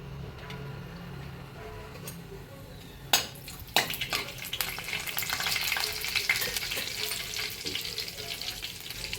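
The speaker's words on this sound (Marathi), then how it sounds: "फोडणीसाठी एक पळी तेल घातला" Cumin seeds hit hot oil in a pan, crackling and sizzling steadily, with a couple of sharp clinks of a utensil and no talking.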